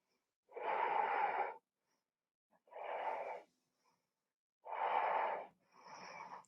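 Slow, deep breaths are drawn in and out during a yoga pose, close and clear: four long airy breaths with quiet pauses between them and no talking.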